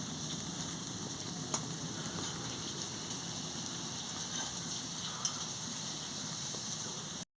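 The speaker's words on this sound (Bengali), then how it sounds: "ভালো করে একটু ঝেঁকে ঝেঁকে ভেজে নিচ্ছি।" Shrimp fritters frying in hot oil in a pan, giving a steady, soft, continuous sizzle with faint crackles throughout and no talk.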